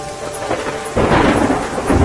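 Heavy monsoon rain pours steadily in Vadodara's Raopura area while a deep rumble of thunder swells in partway through, loud and continuous with no voices.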